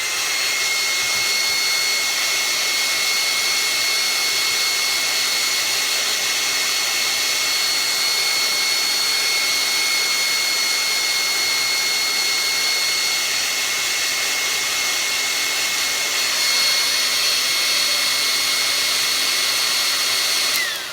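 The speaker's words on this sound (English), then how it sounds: "I'm going to give it another blast with the hair dryer just to help the legs kind of dry a little." Hair dryer blowing steadily to dry acrylic paint on a chickadee painting, a continuous loud whooshing whine with a faint high tone, unbroken for about twenty seconds with no talking.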